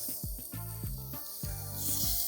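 A continuous hiss of shrimp searing in a hot pan, with low hums and a few soft knocks behind it, close and fairly quiet.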